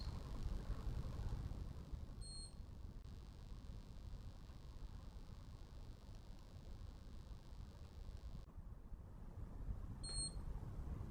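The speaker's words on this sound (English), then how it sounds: "So my beeps are getting closer together again" Two short electronic beeps from a handheld galvanic facial device, several seconds apart, ring out over a steady low hum.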